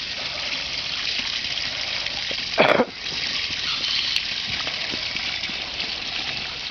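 Steady rushing water from a hose runs throughout, with a brief louder gush splashing near the middle before settling back to a constant flow.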